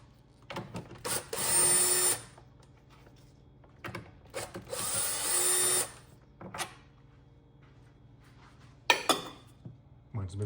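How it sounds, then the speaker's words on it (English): A power tool whirs in several short bursts while removing nuts from the 3.6 engine of a Jeep Wrangler JK, each run lasting a second or two and separated by clicks, clanks and quiet pauses. "Let's remove these two nuts."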